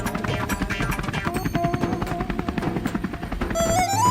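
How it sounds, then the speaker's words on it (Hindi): Helicopter flying in an animated cartoon, a loud continuous rhythmic rotor chop with a rising tone near the end and no voices over it. "मम्मी ये हेलीकॉप्टर हिल क्यों रहा है?"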